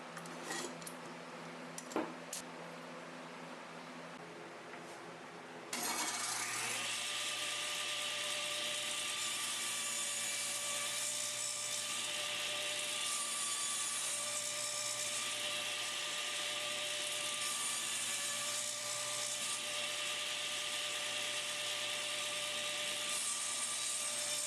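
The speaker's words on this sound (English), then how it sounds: "start cleaning up the edges with the table saw" A table saw trims the glued-up edges of a wooden skateboard deck wall mount; the motor spins up after a few quiet seconds into a loud, steady whine that holds for the rest of the clip.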